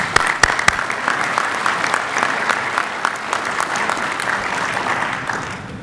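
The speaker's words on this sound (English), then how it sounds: "I'd like for you to give a round of applause for our operating boards of ACCO." A conference audience at the ACCO fall general session breaks into sustained applause for its operating boards, a steady dense wash of many hands clapping with a few sharper individual claps near the start.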